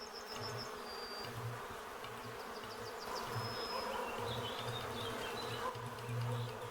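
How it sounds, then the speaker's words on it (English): Steady buzzing of bees in a Sherlock Holmes adventure game set at a beekeeper's picnic, a continuous insect drone with low pulsing hum and faint chirps layered over it. "Let me see if I can walk further past the bees."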